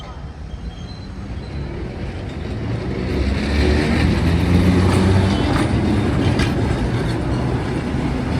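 An older interurban train in Rome rumbles steadily along the rails, loud and close, with a continuous roar and faint clattering from the wheels throughout.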